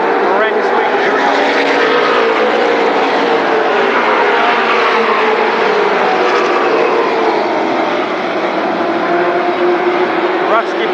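A pack of mini Indy race cars at Berlin Raceway pull back up to speed for green flag racing in 1995, a dense, loud engine drone sustained throughout with a commentator's voice running over it.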